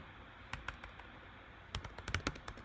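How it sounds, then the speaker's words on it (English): Computer keyboard typing a short command, a few scattered quiet key clicks followed by a quicker burst of keystrokes, close and faint. "I'm going to type Git Clone"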